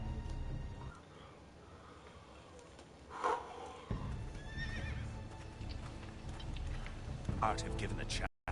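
A horse in a video game whinnies loudly, with hoof clip-clops and game background sounds around it, partly under low voices.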